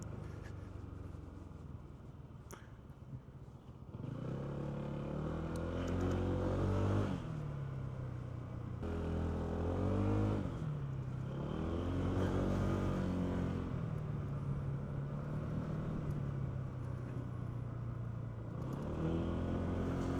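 The engine of a 2026 Honda ADV 160 scooter pulls uphill in a city setting, rising and falling in pitch through several surges of acceleration, heard up close alongside steady wind and road noise.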